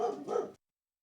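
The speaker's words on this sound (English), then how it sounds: "They're still yipping." Dogs yip and bark in two quick close bursts, then the sound cuts off abruptly into silence.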